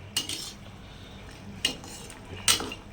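Spoon scraping and clinking against a pan as chicken is stirred over high flame, three sharp metallic strokes spaced apart, close and alone.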